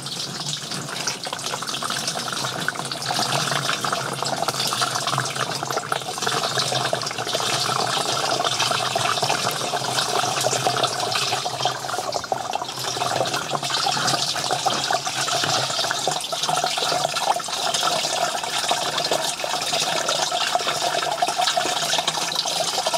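Liquid strained and poured in a steady, loud, continuous rush of water that runs unbroken from start to finish.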